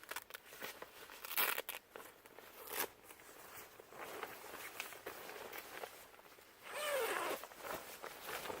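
Zipper being worked on the rainfly of a USMC two-man combat tent, several rasping pulls and tugs mixed with fabric rustling and crinkling, close and fairly quiet, with a longer louder zip near the end.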